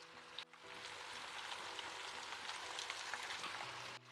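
Ginger garlic paste hits chicken frying in a pan, setting off a steady, close sizzle that holds for several seconds with soft scraping of stirring.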